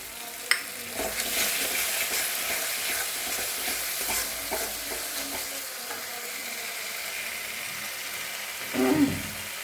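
Cumin, ginger and chili frying in a pan, a continuous moderate sizzle with occasional spoon scrapes and a louder stirring clatter near the end.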